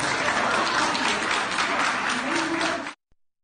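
Students applauding as they walk out of a lecture after an argument with their teacher, a loud, dense burst of many hands clapping that holds steadily, then cuts off abruptly near the end.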